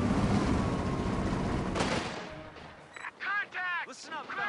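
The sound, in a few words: gunfire in the video game Company of Heroes 2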